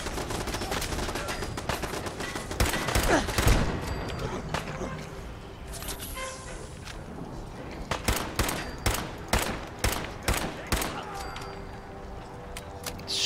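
Gunfire in Fallout 4, with sharp repeated shots, an early sustained burst, then a rapid string of evenly spaced loud cracks near the end, close and prominent over faint background sound.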